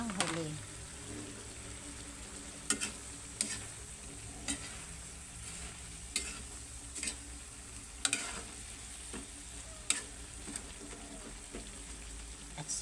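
Eggplant cooks in a simmering ginataang vegetable stew with a soft, steady bubbling sizzle, punctuated by periodic sharp spoon taps and stirring clinks against the pot.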